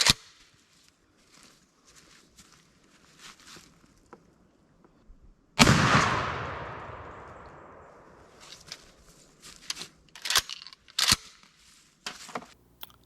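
A single loud shotgun blast firing a Hevi-Shot Triple Beard turkey load at 60 yards, with a sharp crack and a long, fading outdoor decay, followed by faint rustling and handling clicks.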